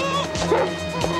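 A dog gives a quick series of close, high yips and short barks, with faint indoor background ambience.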